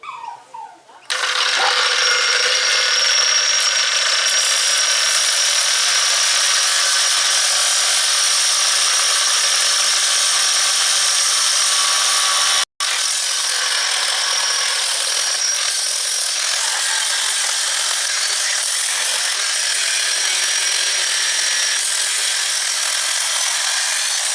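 Power tool cutting a heavy metal chassis off a Model A pickup while throwing sparks, heard as a loud, sustained high grinding screech that runs almost without a break, with one brief cut-out midway.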